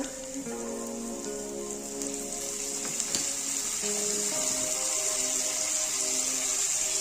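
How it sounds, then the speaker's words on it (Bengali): Soft, steady sizzling of onions frying in oil, growing slightly louder, with a faint tonal hum in the background. "পেঁয়াজটা ভেজে নেব।"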